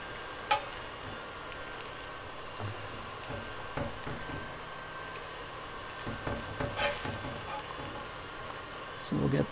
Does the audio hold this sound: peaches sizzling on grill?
yes